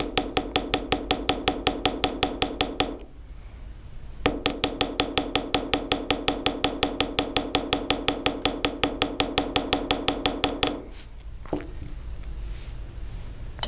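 Steady rapid hammer taps flatten a nail head rivet onto a metal pendant, a close, loud metallic ticking in even rhythm with two brief pauses, then quieter handling at the end.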